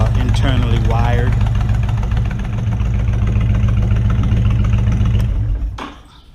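A Honda VTX 1300C V-twin motorcycle converted into a bagger idles with a steady, loud, low rumble that fades out near the end, with a person talking over it.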